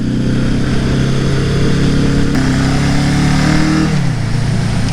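A rebuilt Suzuki GS850 scrambler motorcycle engine with a slipping clutch runs loud and steady during a test ride, its drone holding a constant pitch, then dropping as the revs fall near the end.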